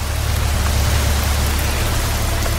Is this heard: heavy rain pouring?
yes